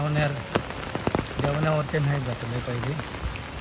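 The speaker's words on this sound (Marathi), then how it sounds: "2 दिवस झाले जाम पाऊस लागता." Heavy monsoon rain in Mangeli village in the Konkan patters steadily on surfaces close by while someone talks over it.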